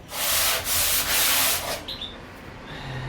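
Steady gritty rubbing of a grit sharpening stone scraped back and forth across sandpaper to flatten its surface, close and loud, then trailing off into quiet.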